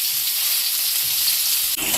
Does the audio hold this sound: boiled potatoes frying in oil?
yes